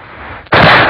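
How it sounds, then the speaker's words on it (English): Gunfire rings out in the mountains of western North Carolina as Spanish explorers arrive: a quiet stretch, then a sudden loud blast that roars on, sustained and close, to the end. "the mountains first heard the sound of gunfire."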